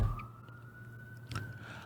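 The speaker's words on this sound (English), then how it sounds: "this is a emergency ambulance" An ambulance siren wails outdoors at moderate distance, a steady high tone holding over low traffic rumble and briefly swelling near the end, with no talk.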